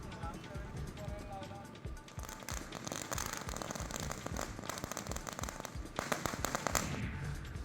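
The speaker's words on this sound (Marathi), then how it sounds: "फटाक्यांच्या आतषबाजीत एकमेकांना पेढे भरवत रोहेकरांनी आनंद साजरा केला." Firecrackers burst in rapid, overlapping crackles at a crowded street celebration in Roha, with a steady din of voices and cheering running underneath the whole time.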